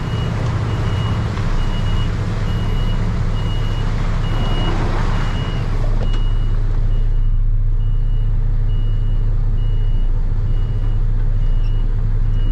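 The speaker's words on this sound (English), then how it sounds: "This truck is not very smooth on backing" Pepsi delivery truck backing up during a storm, its reversing alarm beeping in a steady repeating pattern over a loud rumbling engine idle, with the beeps cutting out partway as the truck stops.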